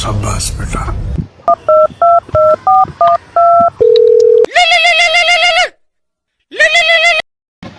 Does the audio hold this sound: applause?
no